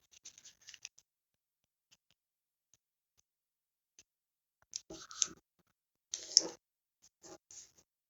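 Paper for an origami dahlia flower is folded and creased close by in a quiet room, with short crisp rustles and clicks in brief separate bursts between silences.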